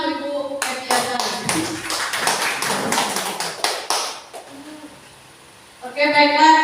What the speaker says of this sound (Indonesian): Sekali lagi tepuk tangan untuk Ibu Eti Azhari.